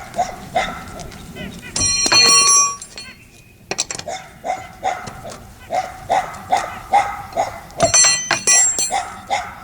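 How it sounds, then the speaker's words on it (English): Dogs bark repeatedly in a steady, rhythmic series nearby during brake work on a 1995 Toyota T100, with sharp metallic clinks from tools between the barks. "I wish those damn dogs would stop barking."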